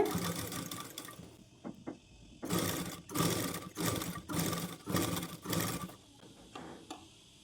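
Sewing machine stitching the edge of a saree, running in repeated short bursts with brief stops between them, close and fairly loud, with no talking.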